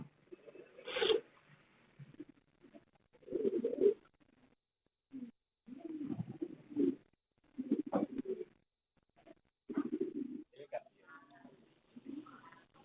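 Jacobin fancy pigeons in a loft make repeated low, throaty cooing bursts at an uneven pace, fairly close and moderately loud, with soft rustling between calls.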